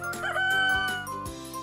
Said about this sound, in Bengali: কক ডাকে খুব ভোরে।